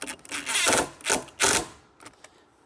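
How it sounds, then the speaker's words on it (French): A power drill drives screws into a wooden patio board in three or four short, close whirring bursts with brief pauses between them. "Tu visses ça de même."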